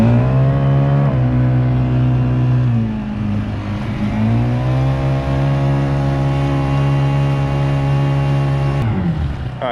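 KB gas outboard on a small boat runs in tandem with a 20V Dewalt battery-powered Watersnake electric trolling motor, a loud steady buzzing engine drone that dips and rises in pitch, close up with no talking.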